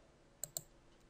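Two quick, crisp mouse clicks close together, faint and sharp, against near silence while working in Outlook.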